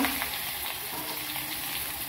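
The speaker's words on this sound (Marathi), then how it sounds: "वांगी अशी परतून घ्यायची" Eggplant being stir-fried dry with turmeric and ground masala in a pan gives a steady close sizzle with faint stirring scrapes, continuous and alone with no talk.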